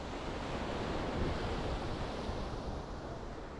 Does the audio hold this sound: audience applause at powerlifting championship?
no